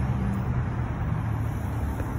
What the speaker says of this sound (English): Oh no, that's a bus. I thought it's a truck.